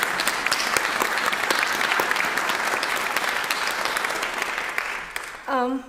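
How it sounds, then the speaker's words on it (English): Students and guests at a university showcase applaud Dr. Emily Bierbone with dense, even clapping that fades near the end, followed by a brief voice. "let's give a round of applause for Dr. Emily Bierbone"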